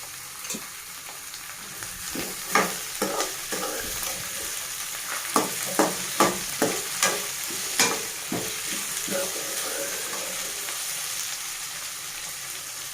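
Tomatoes fry in a pan for poha under a constant sizzle while a utensil stirs with a run of distinct scraping clacks in the middle, close and moderately loud.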